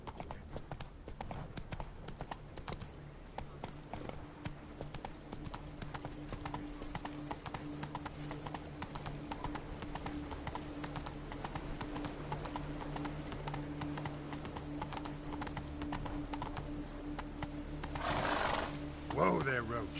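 Roach the horse's hooves clip-clop in The Witcher 3, a steady, continuous trotting rhythm that runs the whole length, with a louder burst near the end that may be a whinny.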